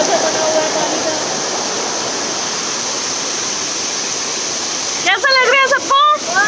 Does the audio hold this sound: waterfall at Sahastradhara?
yes